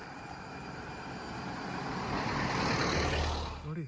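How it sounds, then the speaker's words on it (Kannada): Cicadas drone in the green forest beside the Kuntibailu–Keravashe road, a thin, continuous high-pitched buzz over a low rolling rumble that swells toward the end. "ಸಿಕಾಡ ಜೀರುಂಡೆಯ ಸದ್ದು ಕೇಳ್ಬೋದು ನಿಮಗೆ."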